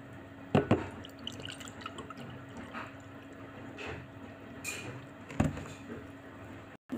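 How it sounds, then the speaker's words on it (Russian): Juice is poured into a cup at home: a quiet liquid trickle with a few soft splashes and drips, heard alone without talk. "Так, наливаю ей сок."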